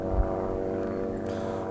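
A propeller airplane drones overhead as a steady, loud, tonal engine hum with a low rumble, holding constant throughout with no talk.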